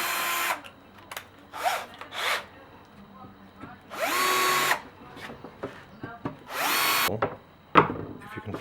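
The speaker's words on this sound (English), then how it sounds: "So I'll just drill the holes for that now." A power drill bores screw holes through wood for a pedal base, sounding in several short, loud whirring bursts separated by quiet gaps and some handling noise.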